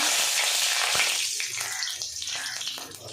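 Black cumin and chillies hit hot oil in a pan and burst into a loud, close sizzle and hiss that quickly settles into softer, crackling frying.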